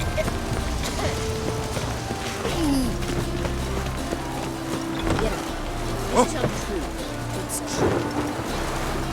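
Rolling thunder and steady rain from a thunderstorm in the video game The Witcher 3: Wild Hunt, a continuous low rumble with a few sharper swells, overlaid by game speech and effects.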